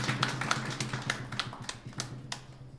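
Sharp drum taps played by a live jazz band's drummer between numbers, a run of crisp, evenly spaced hits over a steady low hum, fairly close and moderately loud.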